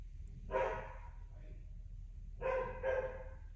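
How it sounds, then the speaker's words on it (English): A dog lets out a few barks indoors, one short burst then two more close together, moderately near against a quiet background hum. "He barks at any noise outside."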